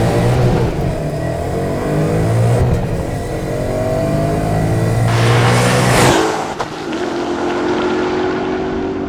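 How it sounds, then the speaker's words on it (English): Supercharged 2014 Ford Mustang GT with a solid rear axle launching down a drag strip: a loud, continuous engine roar climbing steadily through the revs, with a shift around the six-second mark before the pitch rises again. "Launch feels great in this car."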